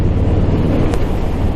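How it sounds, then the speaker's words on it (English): Strong wind roars steadily and loudly across the microphone during a Harley-Davidson Street Bob 114 motorcycle ride over a big, windy bridge, a continuous broadband rush with no voices. "It's windy."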